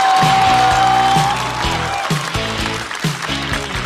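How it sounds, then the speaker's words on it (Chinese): Studio audience applause welcoming a stand-up comedian to the stage at a comedy show, loud dense clapping from a large crowd that fades slightly while music plays beneath it. "掌声欢迎小四爷。"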